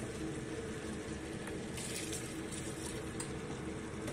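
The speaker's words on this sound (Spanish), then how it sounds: "Le vamos a poner, para que ligue todo esto bien, un chorroncito de vino blanco." A splash of white wine pours into a simmering stew pot of turtle doves, a steady close liquid rush mixed with the sizzle and bubbling of the pot throughout, with no talking.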